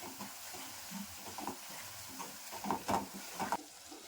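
Mango rice ingredients fry and get stirred in a pan, a soft sizzle under repeated scraping and tossing strokes, close by and moderately loud in uneven bursts.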